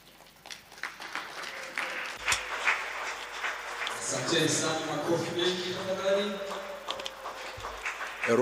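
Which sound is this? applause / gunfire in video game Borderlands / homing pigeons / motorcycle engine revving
applause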